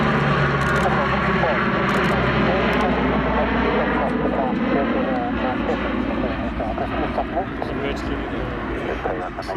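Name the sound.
aircraft flying past at an airshow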